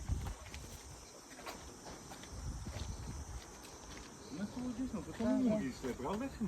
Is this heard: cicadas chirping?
yes